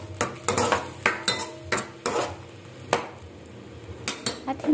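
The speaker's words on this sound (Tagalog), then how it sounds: "Haluin na natin ito." Vegetables are stirred in a frying pan, a utensil scraping and knocking against the pan in a series of irregular clatters over a soft sizzle, with no talking.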